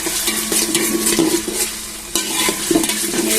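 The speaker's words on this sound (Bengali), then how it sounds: "আদা রসুনগুলোকে একটু ভাজতে হবে" Ginger-garlic paste sizzles in hot oil with already-fried onions for a vegetable khichuri, while a spoon stirs and scrapes the pan in steady, loud, close strokes with no voices.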